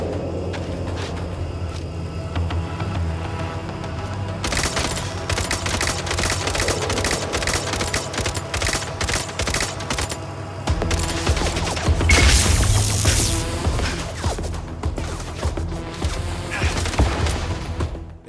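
Enemy gunfire in the video game Mindseye, dense rapid bursts of shots rattling continuously over a rumbling game soundscape, with a person talking now and then.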